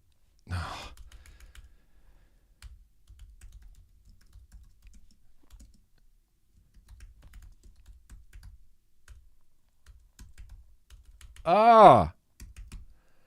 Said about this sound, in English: I bought this new keyboard and I can't type on it